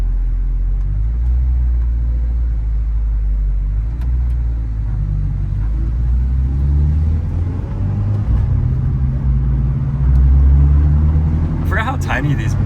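A 1997 Mitsubishi Eclipse GSX idles at around 1300 to 1400 RPM, giving a steady low rumble heard from inside the car with some unevenness, with a few faint clicks near the end.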